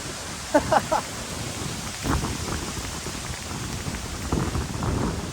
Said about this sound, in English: this rain is really cold